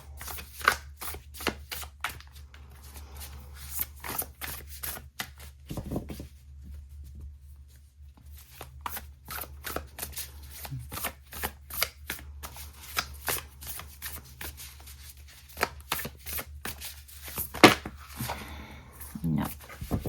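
Tarot cards are shuffled in a rapid run of crisp riffling and flicking, mostly close and steady with brief pauses, over a constant low background hum.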